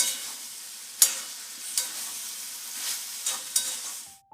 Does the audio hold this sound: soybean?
yes